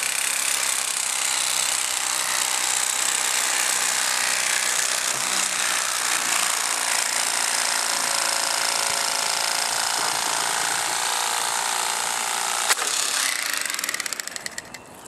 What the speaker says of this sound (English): the E-stiff blade seemed to do a fairly good job getting it off the skin